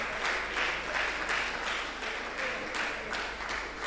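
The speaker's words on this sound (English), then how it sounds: "Please a round of applause for him." Audience applause at a public health grand rounds event, a moderate, fairly quiet patter of clapping with rhythmic swells, heard at some distance in a hall.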